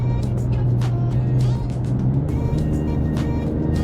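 A Dodge Charger Scat Pack Six Pack engine drones steadily at about 3,000 RPM, its exhaust a continuous low rumble with a strong humming tone, loud and close throughout.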